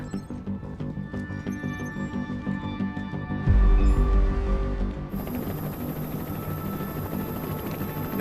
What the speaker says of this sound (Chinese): 雷达发现有3架直升机向晨曦岛方向飞去